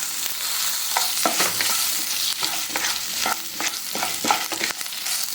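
Ginger and garlic sautéing in a pan, with a steady close sizzle and repeated scraping, stirring strokes of a spatula throughout.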